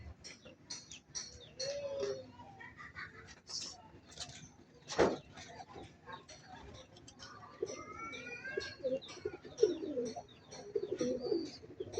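Male racing pigeons coo in low, throaty repeated calls, close and fairly clear, with a few wing flutters and chirps as someone speaks intermittently over them.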